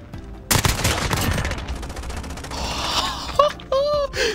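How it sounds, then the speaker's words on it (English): Gunfire in a first-person shooter game, loud rapid bursts of shots from below through a floor, dense and continuous, with pained vocal reactions and later tonal game sounds. "he's shooting me through the floor"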